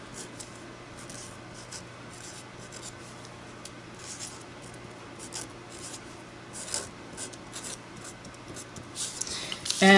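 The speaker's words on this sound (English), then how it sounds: "I want to just write a couple things on here" A pen scratches across paper as affirmations are written by hand, a soft continuous rubbing and scraping that stays close and quiet, without any speech.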